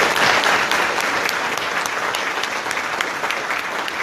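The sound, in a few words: audience applause for police academy graduates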